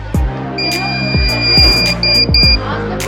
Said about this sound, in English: So the ultrasonic sensor will detect the obstacle and the buzzer will pass